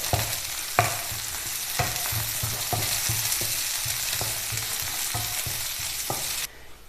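Dried red chillies and curry leaves frying in oil for a cauliflower curry tempering, a loud continuous sizzle broken by several sharp stirring clicks against the pan, with no talk.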